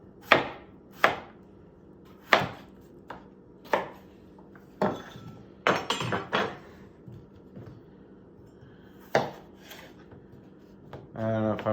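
Knife chopping food into small pieces on a cutting board at home, a series of sharp close thuds in uneven bursts with pauses between, ending in a short rattling scrape.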